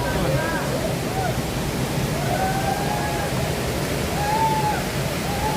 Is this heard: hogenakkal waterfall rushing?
yes